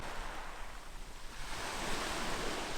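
Sea waves wash against the coast of Crete in a soft, continuous rush of surf that swells gently, heard faintly with no talking.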